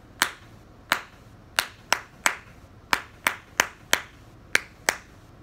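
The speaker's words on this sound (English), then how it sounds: "Now here's just the claps." Rhythmic hand claps in a beat exercise, about a dozen sharp, close, isolated claps at a steady, slightly uneven pulse with quiet gaps between, no voice.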